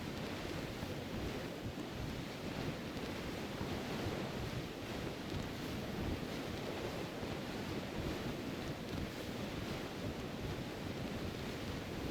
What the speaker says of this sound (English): Steer clear of these storms if you can. The winds and waves can damage our vessels.